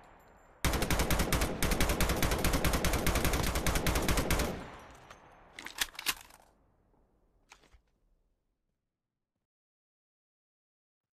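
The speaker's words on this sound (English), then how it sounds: "I was getting shot at." Rapid, sustained automatic gunfire in a video game rattles loudly for about four seconds, then breaks into a few shorter bursts and isolated shots before falling silent.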